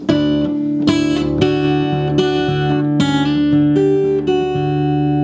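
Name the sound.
guitar playing major resolution chords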